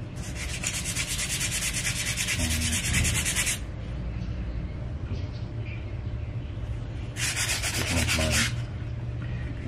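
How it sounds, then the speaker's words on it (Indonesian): Two long bursts of harsh, steady scratching as sandpaper is worked over an old mandau machete blade, separated by a quieter stretch with faint handling noise. "Ini baru ini saya amplasnya, lama sudah tidak pernah."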